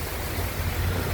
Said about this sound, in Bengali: আজ মুষলধারায় ঝরছে বৃষ্টি